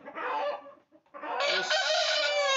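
A Label Rouge rooster at a small farm gives loud, close clucks followed by a long drawn-out crow, with a brief pause between the two calls.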